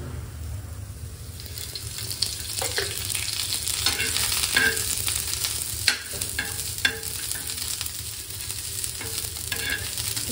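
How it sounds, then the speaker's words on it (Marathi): Chopped onion fries in oil in a pan, giving a steady close sizzle broken by occasional stirring scrapes and clinks, with no one talking. "सुरुवातीला ना फक्त कांदा भाजून घेते, थोडस ना त्याच्यामध्ये तेल ऍड करते"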